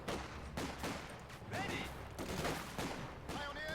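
British Tommy infantry fire their rifles in a Company of Heroes 2 match, sharp shots cracking in a rapid, overlapping fusillade, with distant explosions mixed in.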